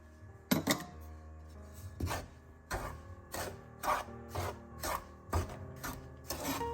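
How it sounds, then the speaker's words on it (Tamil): Flour with sugar is stirred and roasted in a pan, the spoon scraping in regular, quiet rasping strokes against the metal. "கொஞ்ச நேரம் இதை வறுப்போம்"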